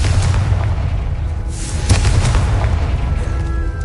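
A Confringo fire spell explodes in the Hogwarts Legacy video game, a loud booming blast over a dense low rumble that stays continuous for several seconds with a few sharper bursts in the middle.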